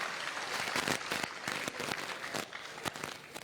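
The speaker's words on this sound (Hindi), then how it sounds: "सबसे पहले इनका तालियों के साथ स्वागत किया जाए।" Applause from an audience welcoming Rajasthan PCC chief Govind Singh Dotasara at a youth mahapanchayat event, a steady wash of clapping with a few sharper claps standing out, moderately loud, with no talk over it.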